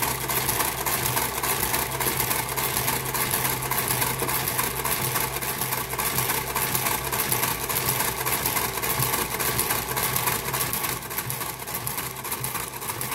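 A Brother KH 950i knitting machine fitted with a KG 95 garter carriage knits at its fastest speed, giving a steady, dense mechanical whir and clatter that runs unbroken and close by, with no talking.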